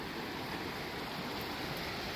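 Creek water flowing steadily in the back country, a broad, continuous rushing wash heard up close with no pauses and no voices.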